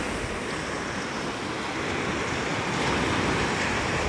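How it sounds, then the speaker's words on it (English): Waves break offshore over a sandbar on the Gulf of Mexico coast, a loud, continuous roar of surf blended with wind rushing across the microphone, with no voices. "We rarely have waves like this on the Gulf of Mexico."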